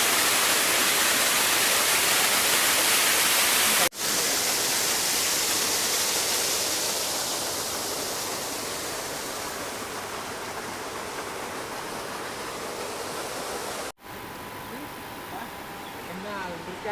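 Water released through the sluice gate of a micro hydro power plant rushes in a steady, loud broadband roar that stays constant throughout, with brief interruptions and faint talk-like sounds near the end.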